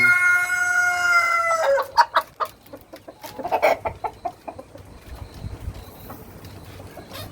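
Caged Black Australorp hens and a rooster on a farm: a rooster crows at the start, then a run of close, loud, rhythmic clucks and squawks overlapping from several birds.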